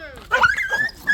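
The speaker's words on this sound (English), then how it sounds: "Dog fight, eh?" Dogs in a scuffle during a Caribbean cookout, one giving a sharp close bark with yelping whine, over voices talking nearby.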